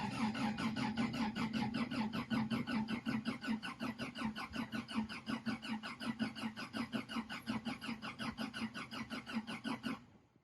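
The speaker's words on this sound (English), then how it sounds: "I don't think that I've actually like done a startup or anything on it, so better late than never, and it actually sounds pretty good." Engine of a JDM legend car starting up and settling into a rhythmic, lumpy idle, loud and close, pulsing steadily for about ten seconds before cutting off abruptly.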